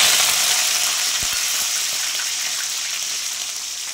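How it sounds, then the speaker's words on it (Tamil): Mustard seeds spluttering and popping in hot oil for ven pongal tempering, a dense steady sizzle with scattered crackles throughout, close and fairly loud with no voices. "கடுகு நல்லா பொரியுது"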